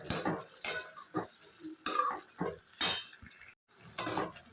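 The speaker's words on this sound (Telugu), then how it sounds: "వేసుకొని 4 వైపులా ఇలాగా కలుపుకోవాలండి" Turmeric powder stirred into ridge gourd and tomato chutney in a pan, giving irregular scraping and clinking of a spoon against metal with a faint sizzle, close and moderately loud.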